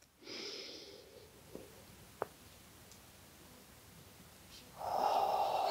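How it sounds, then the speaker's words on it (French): Slow inhaling breath taken during a lumbar back stretch for lumbago, a soft airy intake near the close after quieter breathing and a couple of small clicks. "On inspire."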